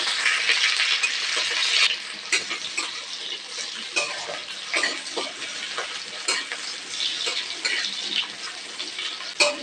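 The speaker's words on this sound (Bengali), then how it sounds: "দিয়ে দিচ্ছি পেঁয়াজ আগে কেটে রেখেছি আর কয়েকটা কাঁচা লঙ্কা। তো ভালো করে ভেজে নেব।" Onions and a few green chillies frying in hot oil for a Bengali betho greens dish, loud crackling sizzle at first, then softer hiss punctuated by repeated scraping stirs of a spatula against the pan.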